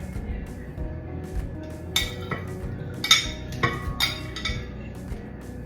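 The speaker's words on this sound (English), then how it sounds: "let's add the fruits to the blender" Frozen fruit pieces are dropped into a blender jar, producing several sharp clinks and knocks spread over a few seconds. They sound close and fairly quiet against a low background hum, and nobody speaks.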